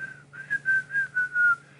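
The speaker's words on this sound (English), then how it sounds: "I whistle like off to the side rather than straight." A person whistles a wavering, slightly falling tone in about five short pulses after a brief opening note, close and clear against a quiet room.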